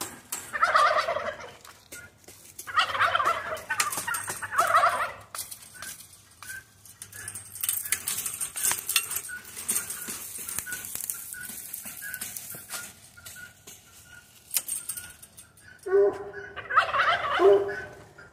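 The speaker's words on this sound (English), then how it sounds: "Let's put the turkeys up" Turkeys gobble in repeated rattling bursts, some close and loud, others farther off, outdoors during an evening roundup, with a steady hiss of background noise between calls.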